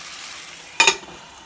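Steak hitting a hot pan: a sudden bright, crackling sizzle bursts out after quiet, peaks twice in quick succession, then settles into a softer hiss close by.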